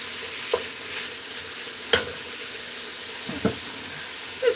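A spoon stirs ham and white bean soup in a pot, with a gentle simmering hiss underneath and a few sharp clinks and scrapes against the pot at irregular moments.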